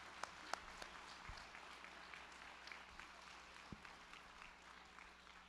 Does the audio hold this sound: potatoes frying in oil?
no